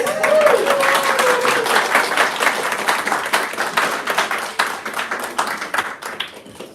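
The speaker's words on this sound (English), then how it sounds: "Give them a very round of applause." Wedding guests applaud the newlyweds after a knot-tying ceremony, a loud, close round of clapping that slowly thins toward the end, with a brief voice near the start.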